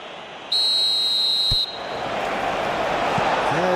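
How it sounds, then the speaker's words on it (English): A referee's whistle sounds in an eFootball PES 21 match, one sustained shrill blast lasting about a second over stadium crowd noise that continues afterward. "That's the whistle."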